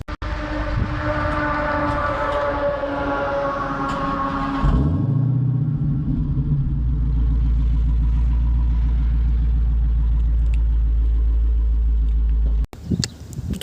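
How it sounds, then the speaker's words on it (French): A 2022 Dodge Charger Hellcat Widebody with a 6.2 litre V8 fires up by remote start, with a rising whine and then a sharp bark, before settling into a loud, deep, rumbling idle that cuts off abruptly near the end. "vous pouvez démarrer le moteur depuis la clé"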